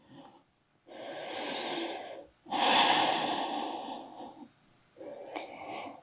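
Deep yoga breaths, a slow audible inhale followed by a long exhale through the nose and mouth, close and clear, with a shorter breath to finish.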